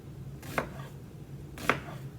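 Two crisp knife strokes chop through an onion on a cutting board, spaced about a second apart, close and clear over a quiet room.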